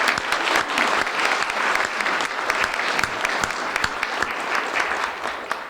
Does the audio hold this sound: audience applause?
yes